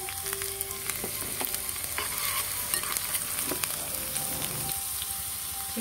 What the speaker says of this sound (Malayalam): എണ്ണ ചൂടായിട്ടുണ്ട്. വറവിടാൻ ഇതിലേക്ക് ഞാൻ ഒരു അര കഷ്ണം ഉള്ളിട്ടിട്ടുണ്ട്. ഒന്ന് ഇളക്കി കൊടുക്കാം.